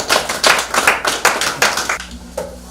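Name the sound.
audience applause welcoming the speaker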